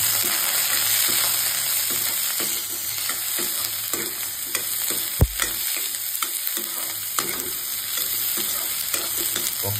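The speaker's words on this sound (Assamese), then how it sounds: "পকা জলকীয়া বিলাহী আৰু পিঁয়াজ এইটো ভাজিছোঁ" Ripe chillies, tomatoes and onions frying and being stirred in a pan, a steady close sizzle with scraping stir strokes throughout and one sharp knock midway.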